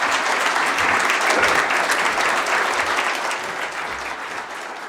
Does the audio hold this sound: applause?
yes